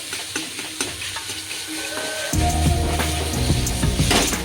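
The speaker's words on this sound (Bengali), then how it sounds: "ভালো করে নেড়ে চেড়ে ভেজে নেব।" Spices like chili and turmeric powder being stirred and fried in a pan, a steady sizzle with scraping stir strokes that grows louder and denser about halfway through, close and with no talk.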